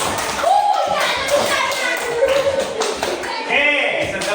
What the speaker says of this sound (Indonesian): tepuk tangan untuk yang tadi